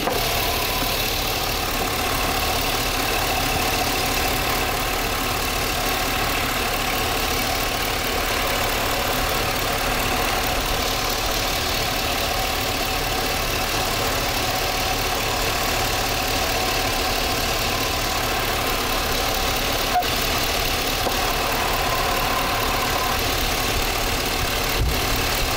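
A car engine idles steadily with an intake manifold gasket vacuum leak, running cold and lean; the rough, even drone holds close and continuous for the whole stretch, with no talking over it.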